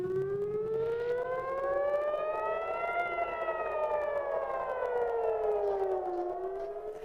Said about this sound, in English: You're listening to air raid sirens blaring across Tel Aviv